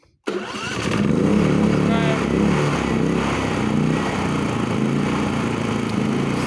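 A Fogo F4001iSE inverter generator engine starts up and then runs steadily at close range, a continuous loud mechanical drone with a rattly, buzzing tone that holds even for several seconds.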